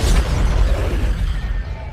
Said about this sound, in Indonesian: Gedung tersebut meledak saat setelah Tadashi memasukinya